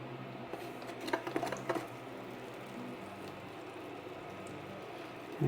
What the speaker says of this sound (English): We're going to melt butter in the pan.